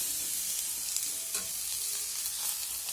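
Cut kundri tossed into a pan of lightly fried onions, a soft steady sizzle with brief stirring scrapes, close and fairly quiet with no talking.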